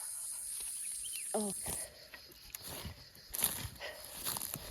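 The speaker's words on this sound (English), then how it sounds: "Listen to the crickets, cicadas" Crickets and cicadas shrill continuously outdoors in a potato field, a high, steady buzzing hiss that swells in bursts, with faint footsteps, rustling and a brief spoken exclamation nearby.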